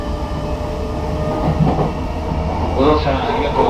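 A JR Nambu Line commuter train rumbles between Musashi-Nakahara and Musashi-Kosugi with a low, continuous drone and faint rhythmic clatter, while an onboard English announcement speaks over it.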